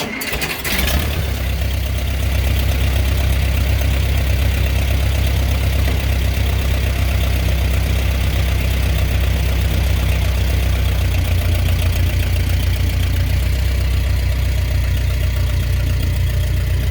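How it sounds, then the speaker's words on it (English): A tractor engine idles and runs steadily after a brief start-up transient, a loud continuous low rumble while the tractor backs off a trailer during a suspension test, with no talking. "So I'm gonna go ahead and back off the tractor, and we'll see where we're at."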